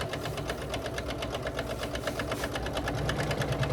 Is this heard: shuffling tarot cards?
no